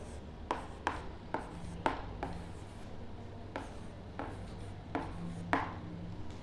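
Number being written by hand on paper, a series of short scratchy pen strokes in an uneven rhythm, close and faint against a quiet room.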